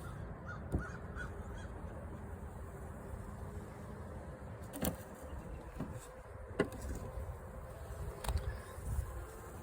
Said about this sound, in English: Got a pretty good amount of bees in here.